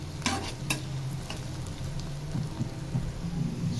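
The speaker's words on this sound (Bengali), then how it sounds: "এ পর্যায়ে আমি রসুনটা দিয়ে দিচ্ছি, দিয়ে নাড়াচাড়া করে দেবো।" Garlic and onion frying in a pan for a village-style pumpkin-greens dish, a dense close sizzle with a couple of sharp stirring scrapes early on, no voices.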